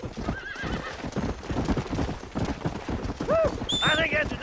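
A horse in the video game Red Dead Redemption gallops with a steady clip-clop of hooves, then lets out loud whinnying neighs near the end over game background sound.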